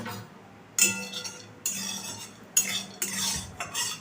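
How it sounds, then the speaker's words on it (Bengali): A metal spatula stirs in a dry, preheated kadai, giving four or five sharp metallic clinks and scrapes spaced across a few quiet seconds. "একটু শুকনো খোলায় নেড়ে নেব।"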